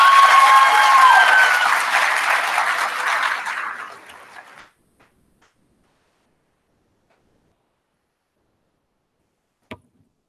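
An audience at a 2018 Tar River Academy commencement ceremony gives the graduates loud, close applause that fades out over about four seconds, leaving silence broken by one sharp click near the end.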